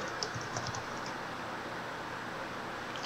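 Fast typing on a computer keyboard during an Among Us game session, a dense patter of light clicks running steadily under a constant background hiss, with no talking.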